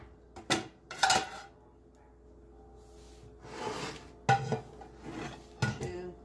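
A kitchen plate fetched for freshly rolled meatballs, heard as several light clinks and clatters of crockery, quiet and close, with soft rustling between them.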